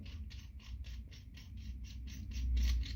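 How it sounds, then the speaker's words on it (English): A puller on a 50cc motorbike being unwound gives a rapid, regular series of small mechanical clicks and creaks, about four per second, close and faint. "So first you unwind your puller."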